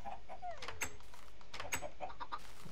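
Chickens clucking in the video game Minecraft, a few short clucks and squawks scattered over a steady game background, moderately faint and without speech.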